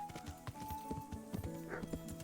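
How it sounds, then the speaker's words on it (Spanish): Horse hooves stamping in the video game Kingdom Come Deliverance: a quick, steady run of close clip-clop hoofbeats, evenly spaced over a faint steady tone. "Me da mucha pena cuando paso corriendo al lado de los caballos porque se escuchan como los pateos"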